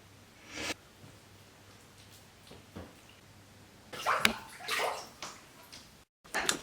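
Water sloshes and splashes during bathing in a shower or tub, in scattered soft bursts with a louder cluster of splashes near the end, otherwise quiet.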